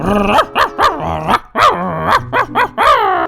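A Minecraft dog barks again and again, a string of loud, close, sharp yips and barks with short gaps, some with a growling edge.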